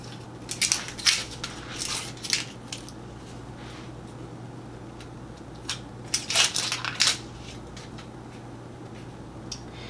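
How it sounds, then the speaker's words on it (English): Kitchen knife cutting through an onion on a board, with a few crisp crunching slices in two short clusters over a low steady hum. "so first we're gonna take our onion and our knife and we're gonna just start cutting through."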